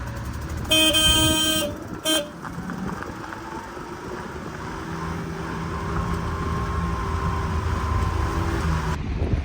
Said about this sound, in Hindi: सामने से गाड़ी आ गई है।